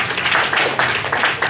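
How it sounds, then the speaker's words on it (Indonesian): A church congregation at a Cornerstone worship service claps in rhythmic, loud bursts that swell and fade several times in quick succession. "Saya lihat tepuk tangan Bapak Ibu Saudara."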